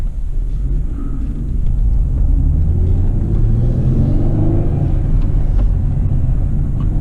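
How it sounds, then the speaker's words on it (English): A manual 2010 V6 Camaro revs up, its loud engine rising in pitch and then holding high instead of dropping back, a drawn-out rev hang under a deep steady rumble. "This car does like the rev hang, especially in first, but sometimes even in second"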